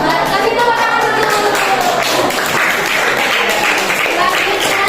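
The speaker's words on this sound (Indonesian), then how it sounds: "Kasih tepuk tangan dulu." An audience in a classroom presentation session claps hands after a group finishes speaking, with dense, sustained applause that holds at a steady, loud level from start to finish.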